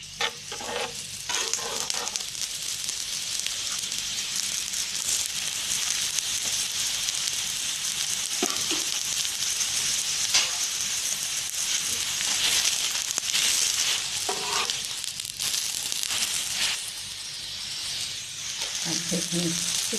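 A radish paratha fries in ghee on a hot griddle with a steady, close sizzle and crackle throughout. Faint scraping and stirring touches come through now and then.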